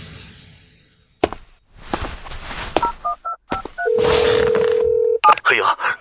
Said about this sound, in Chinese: 你怎么想起给我打电话来了